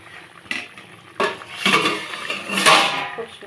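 A metal lid lifted off a cooking pot of simmering parshe fish curry with kalo jeera and green chillies, giving a few sharp clanks and scrapes of metal over a soft bubbling background.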